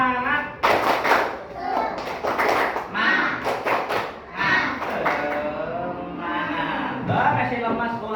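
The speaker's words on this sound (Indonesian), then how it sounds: "Kita tepuk semangat dulu." A group of children claps in rhythm while chanting a class cheer together loudly, claps and voices overlapping in a steady repeated pattern.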